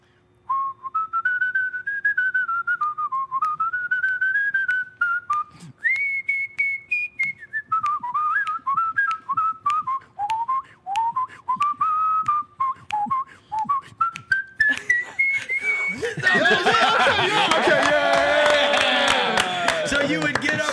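A champion whistler whistles a blues riff solo, with a bright, bending melodic line in short phrases and slides, close and clear. Applause and crowd noise swell in near the end.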